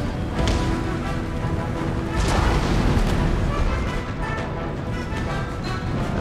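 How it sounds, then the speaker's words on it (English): Artillery firing canister shot on the Empire: Total War battlefield gives dense, rumbling booms and crashes that blend into a continuous loud, low roar of battle, with a few sharper bursts standing out. "And my canister shots doing a great job, doing what they do best."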